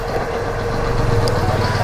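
A Yamaha XT250 250cc dirt bike idles close by with a steady low rumbling throb and no talk.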